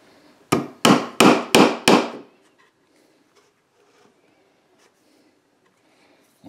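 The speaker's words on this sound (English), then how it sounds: "And now I'm ready for my 16 gauge, one inch brad." A 16 gauge one inch brad is hammered into wood through a pilot hole in the center divider of a tool box: five sharp, loud, evenly spaced blows in quick succession, followed by near silence with faint handling noises.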